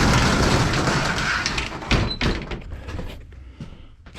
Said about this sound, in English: Let me open the shed up here